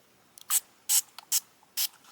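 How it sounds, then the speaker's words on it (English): Four short bursts of a trigger spray bottle misting water onto a wash-away appliqué stabilizer piece held on a hand, each puff crisp and close with small clicks of the trigger between them, no talk. "Spray a bottle of water."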